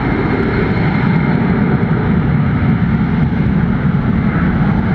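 Jet airliner engines roar at Atlanta Hartsfield airport, a loud, steady, close rumble from an aircraft taxiing that stays constant throughout.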